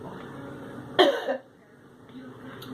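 A single sharp cough, close and loud, breaks through a quiet bathroom with a faint background hum.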